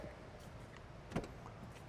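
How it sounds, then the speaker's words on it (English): A 2010 Range Rover door being opened, a single short mechanical clunk of the latch and door about midway through, fairly close against a quiet background hiss. "let's open up some car doors, let some light inside this interior."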